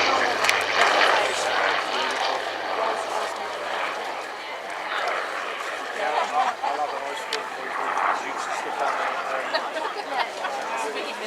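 An aircraft at the RAF Cosford Airshow 2018 makes a final topside pass and departs, a loud sustained broadband engine roar that swells and fades slightly, with commentary and crowd chatter over it.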